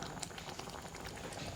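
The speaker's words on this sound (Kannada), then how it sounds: "ನೋಡಿ, ಕುದಿ ಬರ್ತಾ ಉಂಟು" Konkani mango curry, ambe upkari, bubbles in a covered pot, a soft continuous simmering patter with faint pops, heard close and alone.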